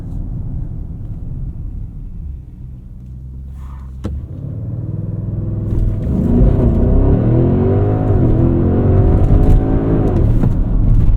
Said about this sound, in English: Do a quick 0 to 60 here at some point in this video.